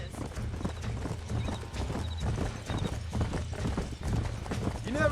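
Horses in the video game Red Dead Redemption gallop with steady, rhythmic hoofbeats, and a neigh rises near the end, with voices underneath.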